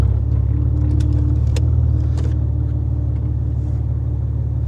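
A Maserati that was once submerged runs with a steady, loud, low engine rumble close by, holding even throughout with a few faint clicks and no talking.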